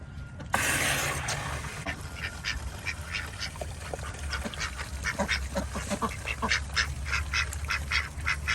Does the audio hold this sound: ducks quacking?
yes